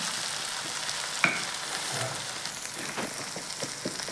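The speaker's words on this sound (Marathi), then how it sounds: "हे बघा मस्त कोथिंबीर, लसूण, अद्रक, कोथिंबीरची पेस्ट आपण छान परतून घ्यायची मस्त" A paste of coriander, garlic and ginger fries with onions in oil, giving a steady close sizzle broken by a sharp clink early on and scattered light spatula scrapes.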